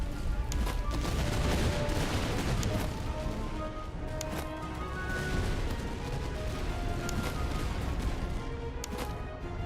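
Rolling musket volleys in a Napoleonic-era Master of Command battle, with French line infantry and canister fire crackling continuously in dense, overlapping bursts, moderately distant and steady throughout.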